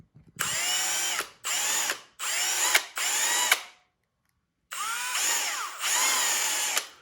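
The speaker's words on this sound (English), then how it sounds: "it's so much easier just to drill out the holes to the proper size" A power drill whirs in six short bursts, loud and close, drilling out holes in a 3D-printed plastic part, with brief pauses between them and a longer gap in the middle.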